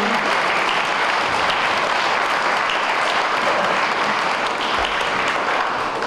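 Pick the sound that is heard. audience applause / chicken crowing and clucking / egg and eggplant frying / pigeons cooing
audience applause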